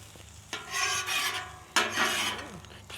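Onions scraped and pushed around on a seasoned flat-top griddle with a metal spatula, two distinct rasping strokes over a low sizzle, close up and without talk.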